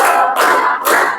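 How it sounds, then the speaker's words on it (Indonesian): A school class claps hands together in three loud, sharp bursts, evenly spaced and close. "Tepuk tiga."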